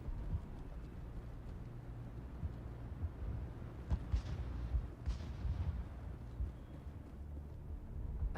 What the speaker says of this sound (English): How is a woman supposed to think with guns going off all around?